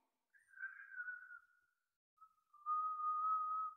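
Two soft whistled notes, a short wavering one then a longer steady one after a pause, faint and alone.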